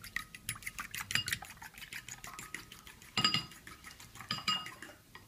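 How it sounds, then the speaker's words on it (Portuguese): Eggs beaten briskly in a bowl with a fork, a rapid run of clinking taps against the bowl's sides, close and steady, alone with no talk. "Enquanto estou batendo os ovos"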